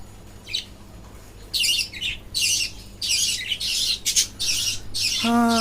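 A caged budgerigar or lovebird squawks close by in a run of sharp, harsh bursts, ending in a higher, more tonal call over a low steady background hum.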